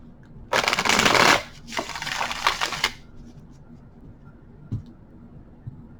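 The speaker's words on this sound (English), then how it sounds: "Cards are always pre-shuffled, but I will do a few here for you." Oracle cards are riffled and shuffled close by in two loud bursts, the first sharper and the second longer and softer, followed by a faint tap and near silence.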